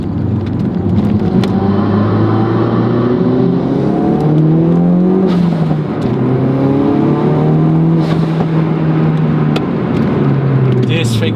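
A Ford Focus RS accelerating hard, its engine climbing steadily through the gears with loud, rising drone and repeated pitch sweeps at each shift, heard from inside the car with a constant rush of road and wind noise.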